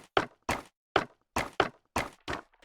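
Resin bricks placed one after another in Minecraft, a series of seven short, soft, squishy taps at an uneven pace, close and clear with no talk.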